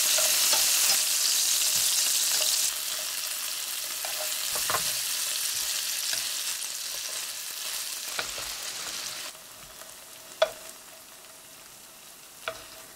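Shrimp sizzle and crackle steadily in hot oil, loud at first and then quieter, with a few clinks of a utensil against the pan.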